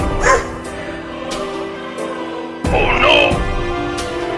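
A cartoon dog gives a few yips and barks amid a lively scene, chasing a kitten, with a person speaking over parts of it.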